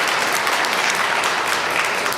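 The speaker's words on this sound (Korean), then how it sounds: "감사의 박수를 한번 보내주시면 좋겠습니다" Congregation in a church applauding in thanks for a retiring deacon who provided rice cakes, a dense, steady patter of many hands clapping throughout, close and even.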